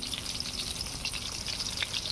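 Garlic paste fries in mustard oil alongside chopped onion for an eggplant and prawn curry, giving a close, steady sizzle with scattered sharp crackles and spits, no talking over it.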